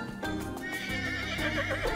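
A horse in the Rust survival video game neighs and whinnies loudly, with hoof clip-clop and a steady harmonic whinny running through the two seconds, no talk over it.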